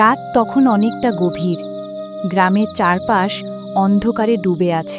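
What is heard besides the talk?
crickets chirping at night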